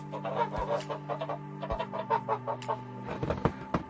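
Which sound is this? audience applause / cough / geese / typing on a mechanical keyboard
geese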